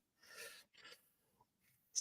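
A single sharp sneeze with a quick intake of breath before it, close and fairly quiet, followed by a brief high squeak.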